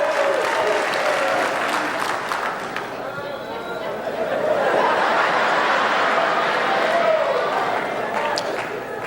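A comedy club audience of married people claps and cheers on request, a steady, fairly subdued wash of applause with scattered whoops, chatter and a little laughter.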